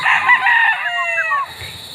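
Bulik gamefowl rooster crowing close by at a game farm, a single loud, harsh cock-a-doodle-doo call lasting about a second and a half before cutting off into quiet.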